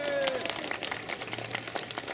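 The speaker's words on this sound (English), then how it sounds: "can we have another round of applause?" Crowd at an outdoor protest rally in Sheffield against the bedroom tax clapping for the speakers, a brief, moderately loud burst of scattered applause.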